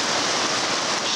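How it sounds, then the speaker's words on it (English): Heavy rain pours down steadily at the Chimney Pond shelter on Mount Katahdin, Maine, a dense, loud, unbroken hiss of water with no talking. "it started pouring down rain"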